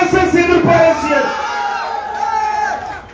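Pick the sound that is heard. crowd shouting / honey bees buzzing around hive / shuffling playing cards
crowd shouting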